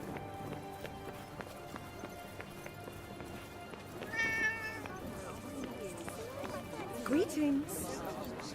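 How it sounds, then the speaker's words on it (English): A cat meows twice inside the video game Forspoken, short mid-pitched cries heard over running footsteps and a busy game soundscape, with speech present. "A cat. I'm so glad they have cats in Athia too."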